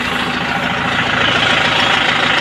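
A 2022 Kubota M6040 tractor engine idling nearby, a steady loud diesel rumble with even low knocking pulses throughout, no talk.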